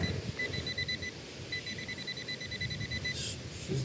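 An Equinox 800 metal detector sweeping a sandy beach gives two bursts of steady high-pitched beeps, close and clear over a constant rustling background hiss.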